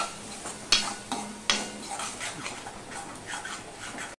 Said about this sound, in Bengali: দিয়ে ভালো করে আমি এই দুটোকে মিশিয়ে কষিয়ে নেব